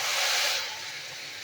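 Nut paste hits hot oil with a cumin tempering in a wok on a gas flame, giving a loud, close sizzle that bursts at first and then settles into a steadier hiss.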